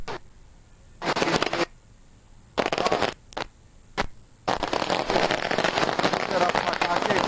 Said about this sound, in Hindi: तरफ पटाखे फूट रहे हैं